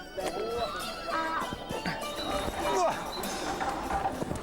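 A horse whinnies in rising and falling bursts, two or three times, amid a busy outdoor soundscape with background voices, during a horseback journey between China and Kyrgyzstan.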